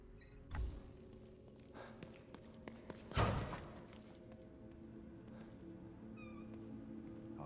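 A stem kitten in the video game The Evil Within 2 meows, with a faint cry early on and a louder yowl midway, amid a thud and low game ambience, with no talking.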